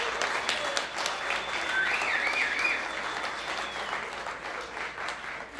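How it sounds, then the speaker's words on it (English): An audience gives a sustained round of applause at a Green Party congressional candidate's talk, dense steady clapping from a sizeable crowd that swells slightly and then eases off. "let me lead you in a round of applause for yourselves"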